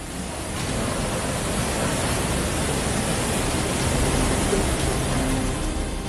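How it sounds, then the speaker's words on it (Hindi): Floodwater laden with debris roars through a town in Uttarakhand, a dense, steady rushing wash that stays loud and unbroken throughout, with no voices. "मलबे के सैलाब की रफ्तार खौफ पैदा कर रही है।"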